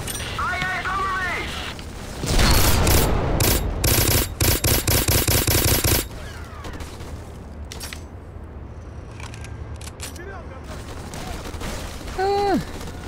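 Sustained automatic gunfire in the first-person shooter Black, a loud burst of rapid shots lasting several seconds followed by scattered single reports, with a voice speaking before and after the shooting.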